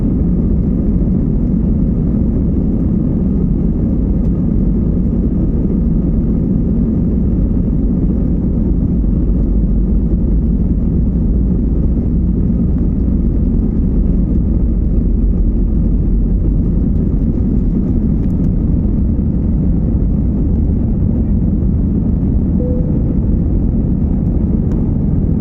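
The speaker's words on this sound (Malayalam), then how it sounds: "അപ്പോൾ അങ്ങനെ ഫ്ലൈറ്റ് മൂവിങ് ആയിട്ടുണ്ട്." Passenger airplane taxiing on the runway, heard from inside the cabin as a loud, steady low engine drone and rumble lasting throughout with no talk.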